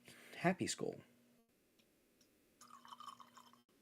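A drink poured from a freshly uncorked bottle into a glass, a soft liquid trickle lasting about a second near the end, after a burst of speech and a brief quiet pause.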